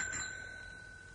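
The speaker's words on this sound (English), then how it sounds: "To fit a bell on a bicycle." A bicycle bell rings once with a bright, clear metallic ding that rings on and slowly fades, heard alone and fairly close.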